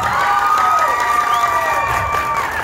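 A crowd cheers and applauds at a lively second-anniversary show, with high children's voices shouting in a loud, sustained roar throughout.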